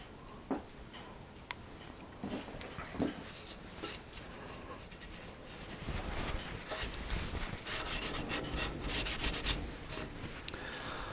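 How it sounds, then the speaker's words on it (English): A brush working oil into carved waterleaf wood moulding, soft close rubbing and scratchy strokes with occasional light taps, quiet overall and growing steadier toward the end. "the brush will enable me to get it right into all these corners here, soaking into the wood"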